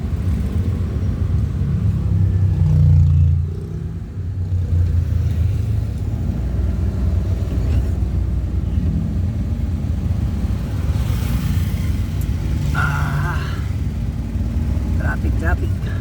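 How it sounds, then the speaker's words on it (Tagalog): Town traffic in San Jacinto, Pangasinan, rumbles steadily as cars pass, heard as a constant low drone from inside a moving vehicle, with brief higher engine whines rising now and then. "Medyo traffic po tayo at nasa town proper tayo."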